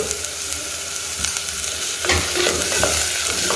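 Onions with a little salt sautéing in a pan for jackfruit kurma, a steady close sizzle with brief scraping stirs of a spoon, no voices.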